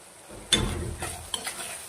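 A spoon stirring bitter gourd curry in a pan with salt just added, one scraping stir followed by a soft sizzle and a couple of light clinks, close and fairly quiet.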